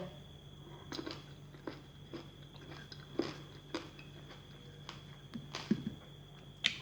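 Someone chews whole crunchy, sweet red grapes, seeds and all, with irregular sharp bites and crunches close to the mic, quiet with no talk.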